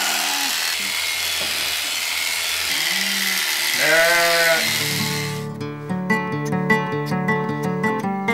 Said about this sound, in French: à la fin de l'hiver, les moutons se départissent de leur chaude toison.